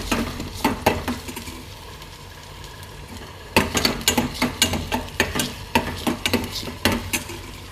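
Daal being stirred in a frying pan, with a quiet stretch and then a run of scraping, clinking strokes of a spoon against the pan in a steady, quick rhythm, close and moderately loud, over a faint background hiss.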